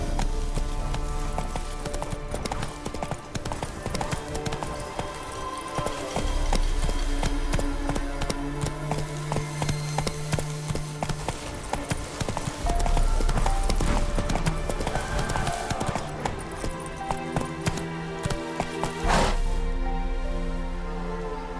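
Horse hooves gallop in The Witcher 3 video game, a steady rapid clip-clop rhythm running throughout over game music and ambience, fairly close and even in loudness.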